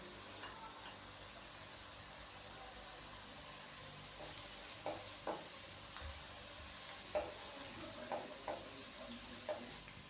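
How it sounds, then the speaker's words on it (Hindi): Onions frying to golden brown in a pan, a soft steady sizzle with a few faint scrapes of stirring spaced through it, heard alone and fairly quiet. "प्याज को हम हल्का सा गोल्डन ब्राउन कर लेते हैं।"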